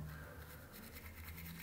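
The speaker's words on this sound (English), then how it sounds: "So we got to brush our teeth. Jurassic Park toothbrush." A child brushing teeth with a Jurassic Park toothbrush, steady faint scratchy bristle scrubbing in quick repeated strokes, very quiet and close.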